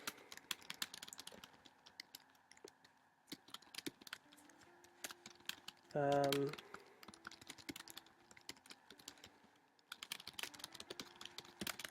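Quick, irregular keyboard typing clicks close by, pausing briefly for a short spoken interjection and a brief tonal beep midway.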